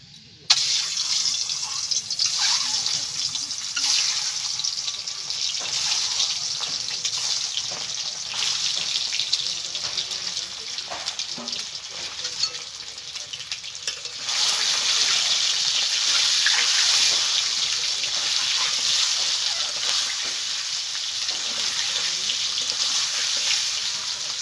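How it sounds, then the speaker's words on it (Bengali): Scored boiled eggs fry in oil in a home kitchen pan, giving a steady close-up hiss and crackle that runs unbroken throughout and grows louder in the second half, with no voices. "এবার আমি ডিমটাকে ভেজে নেব।"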